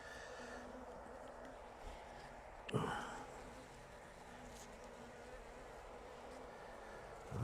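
Continuous buzzing of many fairly aggressive honeybees at an apiary hive, fairly steady, with a sharp knock partway through and faint movement noises.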